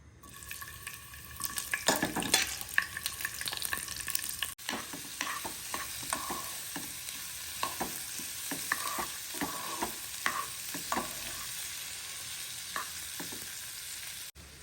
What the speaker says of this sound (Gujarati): એમાં આપણે છે ને વેજીટેબલ જે કટ કર્યા છે ને એ સાતડી લેવાના છે